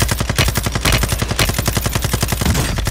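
Rapid bursts of shotgun fire in Warzone 2, loud and close, with regular automatic shots repeating throughout and no talking.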